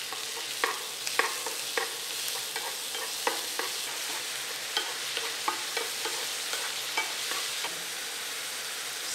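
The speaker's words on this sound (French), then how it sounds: "une fois les oignons commencent à tomber, vous rajoutez votre viande hachée ou filet de bœuf." Minced beef or beef fillet fries with softened onions for a bolognese sauce: a steady, loud sizzle punctuated by regular sharp spatula scrapes and taps against the pan as it is stirred.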